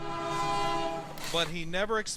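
A train horn plays back from a video, a long sustained chord with steady tones, fairly quiet and slightly distant, followed by a brief wavering shout-like sound near the end.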